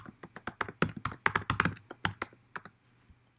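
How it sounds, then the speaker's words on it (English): Password being typed on a computer keyboard while logging into Pulse Secure VPN, a quick irregular run of close, crisp key clicks and taps, some in short bursts, with no voice. "I'm going to type my password in."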